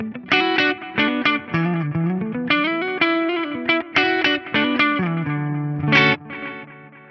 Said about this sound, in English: let's just stick with one of my favorite delay blocks, the stereo BBD